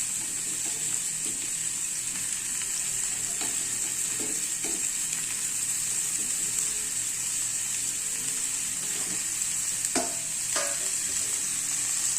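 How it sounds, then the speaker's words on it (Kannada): Chopped beetroot frying in oil in a pan while being mixed, a steady low hiss of frying with a few soft stirring scrapes and taps, close and without speech. "ಇಂಚೂರು ಮಿಕ್ಸ್ ಮಾಡ್ಲೆ 10 ನಿಮಿಷ ಎಣ್ಣೆದೊಟ್ಟಿಗೆ ಫ್ರೈ ಆವಡ"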